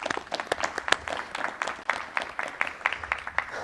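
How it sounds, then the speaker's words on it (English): Audience applause for a speaker at a shahada gathering, a dense patter of many hands clapping with a few sharper individual claps standing out, steady and moderately close throughout. "A round of applause for our dear brother."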